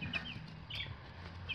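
Meat chickens in a chicken tractor cluck softly at close range, a few short calls over a low background murmur with no voices.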